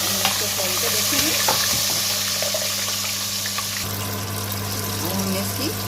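KFC-style chicken leg pieces fry in a pan over low heat, giving a steady close sizzle with occasional stirring scrapes and a constant background hum.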